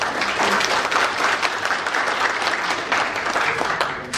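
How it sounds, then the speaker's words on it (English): Warm, dense applause for Governor Hee-ryong Won fills a hall at a formal ceremony, continuous and even-paced with no one speaking over it. "Let us know our thanks to him again with big claps"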